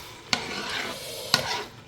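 Beef in tomato sauce stirred in a pot over high heat, two sharp spoon knocks against the pot over a continuous soft bubbling sizzle.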